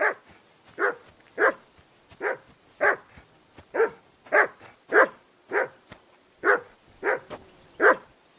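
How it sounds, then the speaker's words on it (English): A dog in the video game Kingdom Come: Deliverance 2 barks repeatedly, about a dozen sharp barks at a steady, evenly spaced rhythm, clear and close with no talking. "Say something to that dog."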